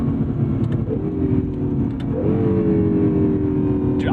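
A 2017 Acura NSX (NC1) accelerates hard with quick gear shifts, its steady engine drone rising in pitch, dipping briefly at each shift and climbing again, loud and close throughout.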